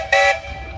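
Steam whistle on a 16 horsepower steam engine at a threshing show tractor parade, one short bright blast of about a fifth of a second over a low rumble of engine and crowd noise.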